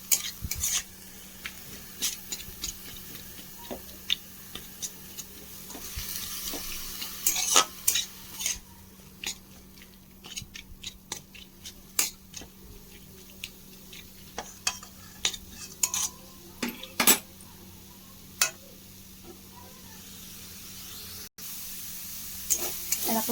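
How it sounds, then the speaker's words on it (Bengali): Close sizzling of chopped chicken frying with repeated scraping and clattering as a spatula stirs the pan, steady throughout with no talking. "চিকেনগুলো আমার একদম ভাজা ভাজা হয়ে গেছে"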